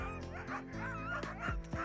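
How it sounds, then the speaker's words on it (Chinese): Sled dogs in Alaska yipping and whimpering in quick, eager, overlapping calls, close and fairly loud, with several short barks over a steady background. "就听到了狗狗的叫声"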